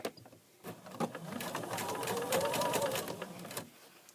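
A sewing machine fitted with a wide hemmer foot stitches a fabric hem, starting with a few short bursts before settling into a steady, quiet close-up whir with soft rhythmic ticking, and no talking.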